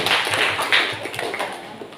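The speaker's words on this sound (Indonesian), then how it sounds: "tepuk tangan untuk paslon nomor 3" Applause rings out for candidate pair number 3 at a student council debate, a dense wash of clapping hands filling the room for about two seconds without pause.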